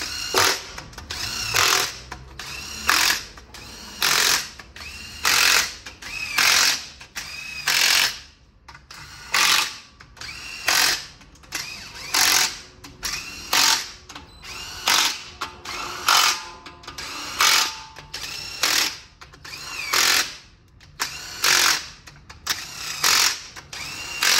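A ratchet tool cranks repeatedly in short rhythmic bursts of clicking while bolts are torqued to spec on a GM 3.6L engine, close and loud, with brief pauses between strokes and no talking.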